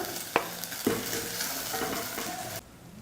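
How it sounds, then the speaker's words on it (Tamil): Chopped okra sizzles and fries in a hot pan, stirred with a couple of sharp scraping knocks, close and steady before cutting off abruptly. "வெண்டைக்காயை வலுவெலுப்பு போகிற வரைக்கும் இந்த போல் வதக்கி எடுத்துக்கணும்"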